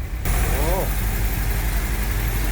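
An old Jeep engine, unrun for over 40 years, runs steadily with a continuous low rumble close by, with a brief voice near the start.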